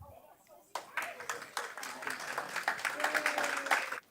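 An audience at a school board of education meeting applauds substitute teachers. Dense, continuous clapping from many hands starts abruptly after a quiet moment, holds steady for a few seconds and stops suddenly.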